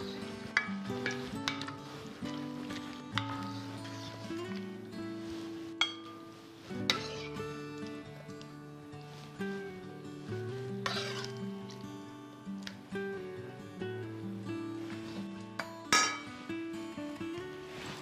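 Chopped tomatoes warming briefly in a pan with nearly finished buckwheat groats, giving a steady sizzle with stirring scrapes and light clinks of a utensil against the pan, close and continuous without talk.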